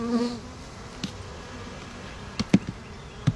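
Honey bees buzz steadily during a hive inspection, a low continuous drone with a few sharp knocks and clicks from handling the frames, no voices.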